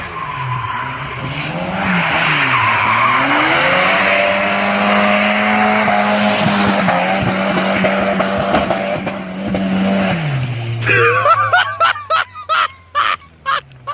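A rear-wheel-drive car with a welded differential drifts, its tires squealing loudly in a long sustained screech over a droning engine, then breaking into short choppy chirps at the end.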